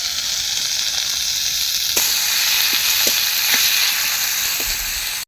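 Chopped tomatoes fry in a pan with a loud, dense, continuous sizzle and hiss, marked by a few faint taps from a utensil, with no speech.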